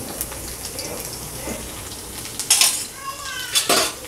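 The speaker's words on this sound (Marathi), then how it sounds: "लसूण अशी चांगली फ्राय करून घेऊयात." Garlic cloves frying in hot oil in a pan, a soft sizzle under clinks and scrapes of a utensil against the pan, with a few sharper metallic knocks near the end.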